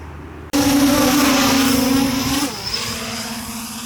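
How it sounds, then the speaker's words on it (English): An iFlight DC10V2 quadcopter drone gives a loud, steady propeller whine with a strong droning hum as the props spin up, then the pitch drops and it settles into a slightly lower, continuous buzz. "the props get to a certain RPM and they just resonate in the frame"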